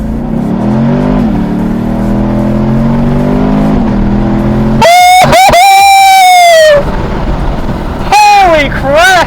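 A 2021 Chevy Camaro LT1 engine rumbles loudly and climbs in pitch as the car accelerates hard from inside the cabin, with an occupant's excited shouts and whoops breaking in over the engine near the end.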